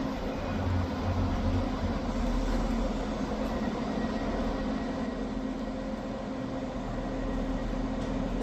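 A three-carriage Scotrail service pulls into Edinburgh Haymarket station, a sustained low rumble and hum of the train rolling in close by, steady and fairly loud throughout with no voices.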